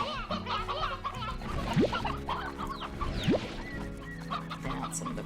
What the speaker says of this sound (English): I let some of the regular stone hens and briar hens loose in here.